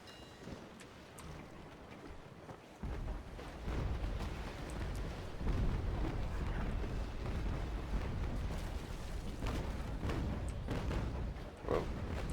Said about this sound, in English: Whoa, that was a fail broadside.